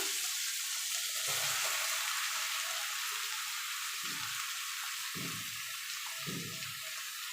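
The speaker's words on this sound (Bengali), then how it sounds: "মশলাটা কষানো হয়ে গেছে এবার লাউটা দিয়ে দেবো" Bottle gourd goes into a pan of spice paste frying in oil, with a steady, close, loud sizzle and a few soft, low thumps and stirring sounds.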